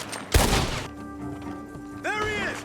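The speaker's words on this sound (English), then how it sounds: "The gunshots are coming from that barn!" A sharp gunshot bursts out in Red Dead Redemption 2, followed by a lingering tonal hum and then a swooping whoosh-like effect, game audio with no clear speech.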